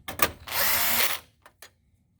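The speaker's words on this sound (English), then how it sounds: "you put your screwdriver right through that hole" A power screwdriver drives a screw into a fax board on a Ricoh MP C4504–C6004 copier, whirring loudly for about a second, followed by a few small clicks nearby.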